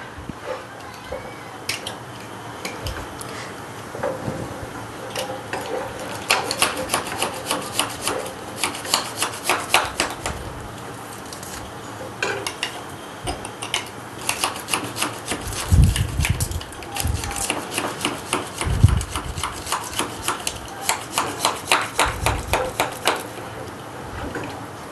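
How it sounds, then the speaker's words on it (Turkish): Knife chopping garlic on a board for Kurdish dolma in a Bitlis home kitchen, a run of quick rhythmic taps in bursts over background clatter and low noise. "Ben de bu arada sarımsağı hazırlayayım."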